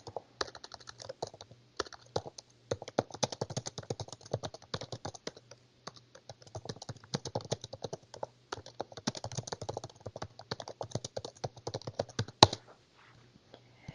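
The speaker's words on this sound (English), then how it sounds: "You can actually type those in manually." Someone types manually on a computer keyboard, entering data into field operations software: quick close clicks in irregular bursts with short pauses, fairly quiet, no speech.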